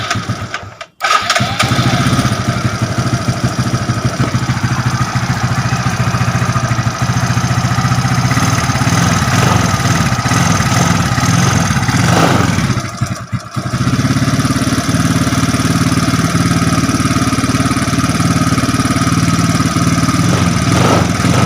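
An automatic scooter with a faulty ECU is started, its engine catching after a brief silence and running steadily and loudly close by, with one short dip in the middle before the idle resumes.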